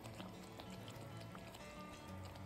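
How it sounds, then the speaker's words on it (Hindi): Water poured into a pan of eggplant curry, Hyderabadi-style bagharay baingan, giving a steady, close liquid splashing and filling sound that runs through the clip without speech. "पानी ऐड करके इसको मिक्स करेंगे"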